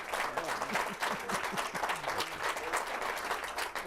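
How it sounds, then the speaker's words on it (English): A town hall audience at a domestic violence forum applauds a panel, steady dense clapping from many hands filling the room at moderate level, with no voices over it. "Look, we should give this panel a round of applause."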